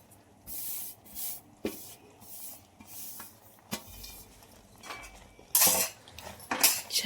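Peanut powder being stirred into a pan of sugar syrup over low heat for peanut katli, heard as intermittent scraping and clinking of a utensil against the pan with soft hissy bursts, close and moderately loud, no talking.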